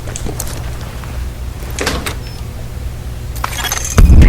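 In a video game, a door opens with a few faint metallic clinks and mechanical clicks over a low steady hum, ending in a sudden loud thud.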